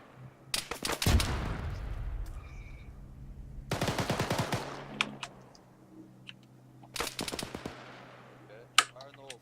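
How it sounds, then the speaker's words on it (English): Bursts of loud gunfire in a squad-training video game session, three heavy volleys spread across the stretch with quieter crackle between them, and a sharp single crack near the end; no detonation stands out clearly. "I'm gonna blast this fucking claymore to our right."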